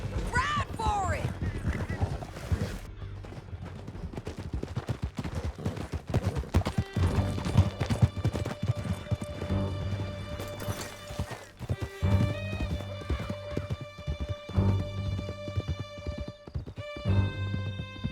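Horses galloping in a video game canyon chase, steady rapid hoofbeats with occasional whinnies under shouted voices and a swelling musical score, moderately loud and continuous.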